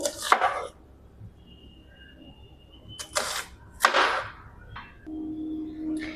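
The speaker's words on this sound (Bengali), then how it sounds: "পেঁয়াজটাকে এরকম এর মতো স্কোয়ার স্কোয়ার করে কাটবো" A knife chops an onion into square pieces on a board, a few sharp separate cuts spaced out with quiet gaps between them, close and clear, with no talking.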